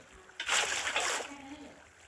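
A short splash of water is placed in a video game while building a pond, a bright wet burst lasting under a second before fading, with quiet talk around it.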